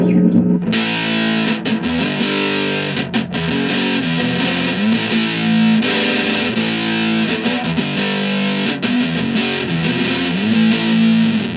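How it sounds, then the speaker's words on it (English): A restored Silvertone electric guitar with a single-coil pickup and fuzz pedal plays loud, sustained chords and riffs, thick and saturated from start to finish. "Sounds pretty good with some heavy distortion."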